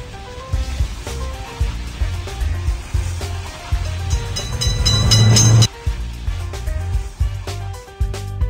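A cartoon train in a children's game rolls past with a steady rhythmic rumble and clatter, swelling to a loud burst near the end before settling back.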